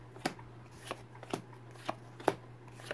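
Pokemon cards from a Rebel Clash booster box are shuffled and handled, with about six distinct riffling snaps spaced evenly over a faint steady hum and no voices.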